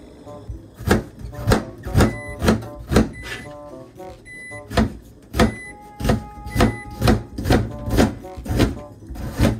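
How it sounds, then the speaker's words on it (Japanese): A kitchen knife chops an onion on a cutting board in a quick regular rhythm of sharp, close knocks, about two per second, with brief pauses between runs. "必要な玉ねぎを切っていきましょう。"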